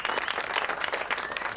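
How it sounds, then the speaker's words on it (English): Studio audience applause on a 1994 television talk show: steady, dense clapping at moderate volume, continuous throughout the short stretch with no talk over it. "So give Joel a nice round of applause."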